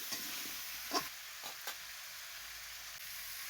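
Ground spice paste for a village-style fish curry with pumpkin is stirred briefly in a hot pan: a steady sizzling hiss with a few scraping knocks of a spatula, no voices.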